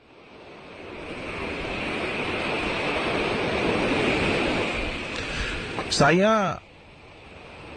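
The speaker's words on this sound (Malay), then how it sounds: "Ombak pada malam tersebut agak kedengaran kuat." Ocean waves wash in at night as a steady, loud broadband roar of surf that swells and holds, with a brief voice breaking in near the end.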